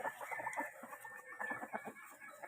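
Chickens cluck busily inside a coop, a Brahma rooster among them, with dense overlapping clucks and short calls close by, steady throughout.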